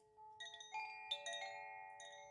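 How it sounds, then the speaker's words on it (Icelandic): Soft chime tones ring out in a few gentle, overlapping strikes, their pleasant notes sustaining and layering over a quiet background with no talking. "Það klingja hérna aðeins í fallegum tón"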